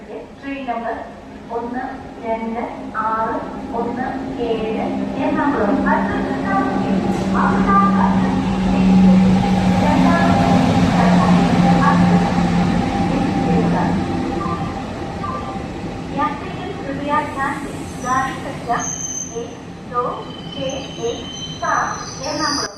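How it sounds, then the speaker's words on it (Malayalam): The Kannur-Ernakulam Intercity train pulls into Vadakara railway station, its rumble swelling mid-clip with squealing wheels and rhythmic clacking over the rails, while voices carry on throughout. "വടകര റെയിൽവേ സ്റ്റേഷനിലോട്ട് ഇതായി എത്തിക്കൊണ്ടിരിക്കുന്നത് ട്രെയിൻ നമ്പർ പതിനാറ് മുന്നൂറ്റാറ് കണ്ണൂർ എറണാകുളം ഇൻ്റർസിറ്റി ട്രെയിനാണ്"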